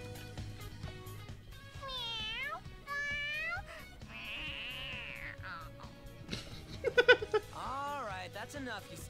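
A cat in Persona 5 Royal meows excitedly in a string of rising and falling cries, some long and wavering, a few sharp bursts near the end, over quiet background game music.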